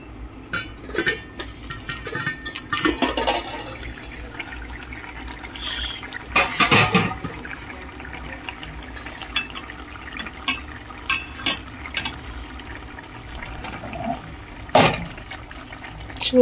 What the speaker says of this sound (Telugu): చూడండి చేపల కూర ఎలా ఉడుకుతుందో చూపిస్తాను నేను మీకు ఇప్పుడు